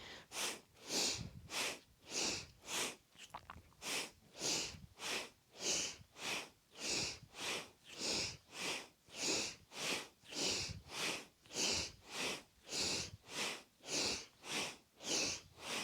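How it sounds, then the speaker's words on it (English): Rapid, powerful Kundalini yoga breath of fire, forceful nasal inhales and exhales repeating in an even pumping rhythm, about two per second, close and loud throughout. "Inhale, exhale, down. Back and forth, powerful breath."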